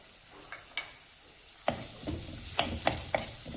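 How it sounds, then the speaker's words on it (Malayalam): Chopped garlic and ginger frying in a pan for a coconut and tamarind fish curry: a soft hiss rising into a louder sizzle, broken by several sharp stirring clacks and scrapes close by. "ഇനി അതിലേക്ക് അരിഞ്ഞു വെച്ചിരിക്കുന്ന ഇഞ്ചി ചേർക്കാം"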